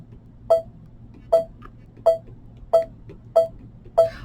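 An embroidery machine quilting in the hoop gives six short, clear beeps at a steady pace of about one per 0.75 seconds, over a low hum in a quiet room.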